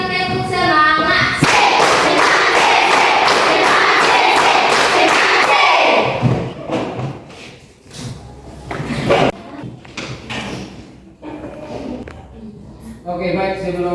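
Students stand in a classroom and clap in quick rhythmic bursts of spirit claps (tepuk semangat), loud and dense at first, then thinning into scattered claps and thumps with talking in between.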